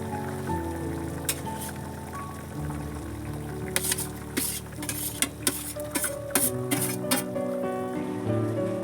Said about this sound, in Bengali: এবার আমি এর মধ্যে ভেজে রাখা পনিরগুলো দিয়ে দিচ্ছি